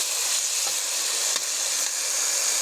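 Vegetable fry sizzling steadily in a pan, a dense close hiss of frying with faint stirring scrapes, no voices.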